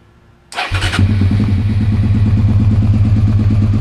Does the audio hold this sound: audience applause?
no